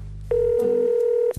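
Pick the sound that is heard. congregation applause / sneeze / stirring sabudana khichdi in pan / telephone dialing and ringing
telephone dialing and ringing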